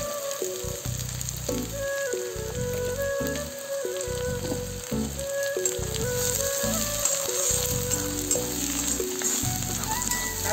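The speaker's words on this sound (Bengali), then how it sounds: "আর একটু ভাজা হলে হয়ে যাবে। তখন তো আর আদাটা ভাজা হয় না" Ginger fries in oil in a pan, a steady close sizzle with bursts of crackling and stirring scrapes, alone without any talk.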